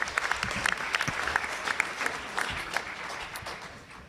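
Audience at a national convention board meeting breaking into a round of applause for an honoree, a dense, even clapping from a sizeable crowd indoors that carries on steadily for several seconds.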